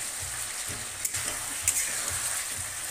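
Spices sautéing in oil in a pan while potatoes are being cooked for lunch, a steady close sizzle and frying crackle with faint soft stirring knocks underneath, no voices.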